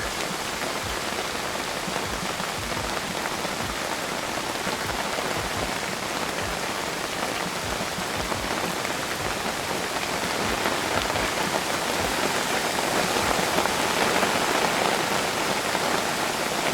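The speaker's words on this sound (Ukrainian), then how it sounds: "Почався дощ і то сильний капець" Heavy rain pours down steadily outdoors by the Dniester River in the evening, a dense, even hiss of drops drumming on surfaces with no pauses or voices.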